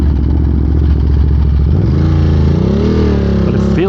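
A 2022 Ducati Monster with altered gearing cruises on an interstate, its engine droning loud and steady with wind roar, then rising in pitch as it accelerates near the end.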